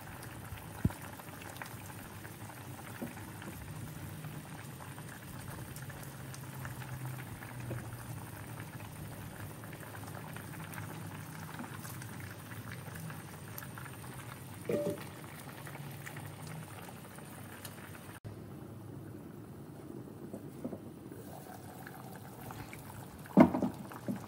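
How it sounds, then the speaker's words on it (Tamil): South Indian meen kulambu, a spicy fish curry, simmering in a pot, giving a steady soft bubbling and gentle boil with occasional small pops, close and continuous, no voices. "இப்போ நம்ம குழம்பு நல்லா கொதிச்சிருச்சு"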